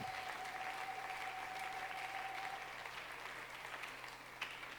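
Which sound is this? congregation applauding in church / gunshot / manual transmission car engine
congregation applauding in church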